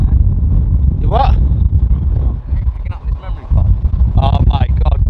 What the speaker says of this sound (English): It's unbelievably windy today